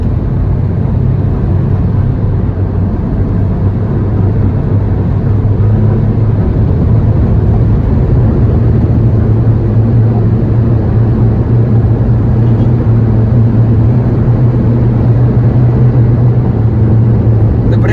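Renault Duster diesel engine pulling hard after a manual-mode downshift, a steady low rumbling drone that builds gradually and stays loud and close throughout.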